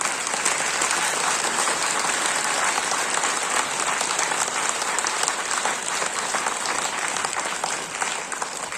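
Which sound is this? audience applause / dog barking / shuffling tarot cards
audience applause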